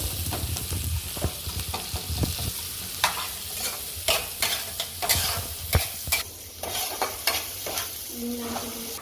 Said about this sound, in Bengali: পেঁয়াজগুলো একটু ভাজা ভাজা হবে।